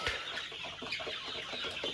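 Egyptian Fayoumi chickens, about forty-five days old, cluck and chatter continuously on a poultry farm, several birds overlapping at close range in a busy, steady flock murmur.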